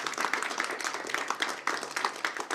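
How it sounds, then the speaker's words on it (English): Audience applause honoring a family patriarch at a gathering, a brief, fairly quiet patter of many hands clapping in a loose, uneven rhythm, with no voices over it. "I want to give a round of applause for the guy that started this all, her grandfather, Tom"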